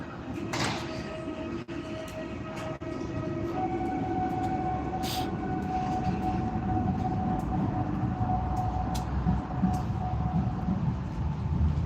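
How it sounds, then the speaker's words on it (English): A Moscow commuter train pulls away at night with a rising rumble and a sustained whining tone, accompanied by clanks and rattles, continuing steadily for several seconds. "That's the D4 train running away."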